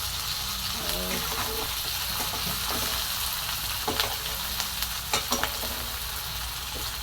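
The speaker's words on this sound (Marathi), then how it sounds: "एक टमाटर आणि सर्व असं मिक्स करून घेणार आहे आमचे परतून घेणार आहे आता" Tomato and green chillies being sautéed in a pan for a potato, lentil and fenugreek dish, with a continuous close sizzle and several sharp scraping stirs toward the end.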